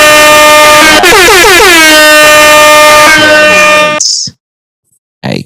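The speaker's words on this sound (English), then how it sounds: "Let me give him the air horn." A loud, blaring air horn sounds in several long bursts with a wobbling pitch, cuts off abruptly into silence, then a short blast returns.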